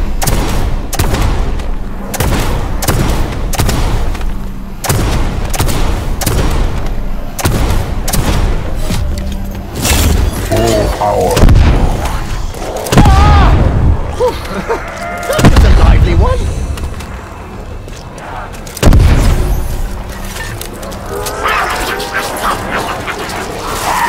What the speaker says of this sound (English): With a hand cannon.